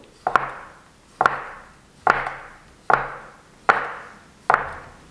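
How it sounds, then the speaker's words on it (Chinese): A knife slices a rolled log of wrap dough into ten equal pieces on a board, giving six sharp, evenly spaced chops about a second apart, close and clear with no voices. "直接搓成长条状， 切成大小均等的10个面剂"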